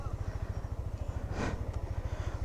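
A delivery rider's motorcycle engine thrums with a steady rapid pulse while riding, loud and close, with a brief burst of wind or traffic noise passing midway.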